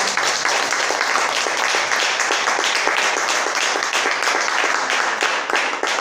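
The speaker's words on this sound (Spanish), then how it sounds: "Dale un fuerte aplauso al Señor Jesús." A church congregation bursts into loud, sustained applause, dense overlapping clapping that stays steady and close for the whole stretch.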